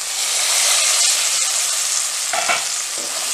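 Capsicum frying in a pan, being stirred with a spatula: a loud, steady broadband sizzle with scraping strokes partway through.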